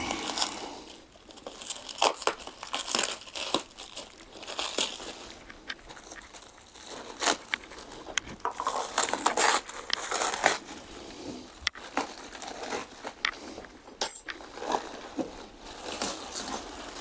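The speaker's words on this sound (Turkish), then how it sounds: "Kokopit bu şekilde blok halinde geliyor. Bunu açalım." A compressed coco peat block is broken apart by hand, giving close, dry crumbling and crunching bursts that come in irregular clusters with short pauses between.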